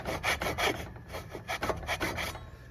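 A hand saw starts a cut in wood for a hand-cut protruded box joint, the workpiece held in a vise. Close, rhythmic rasping strokes repeat steadily back and forth with no talking.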